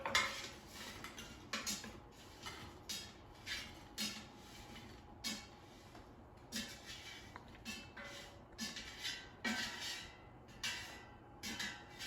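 Diced sweet potatoes are lifted out of an air fryer basket, with a string of faint, regular metallic clinks and taps in a quiet kitchen.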